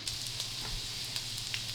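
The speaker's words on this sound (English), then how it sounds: "Can you just see that fat just sizzling away?" Fat from chicken sausages sizzles steadily in a frying pan with small pops and crackles scattered through, close by and fairly quiet, no voices.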